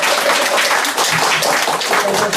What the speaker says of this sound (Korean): 우리 자장께 박수 한번 해드리고 고생하셨습니다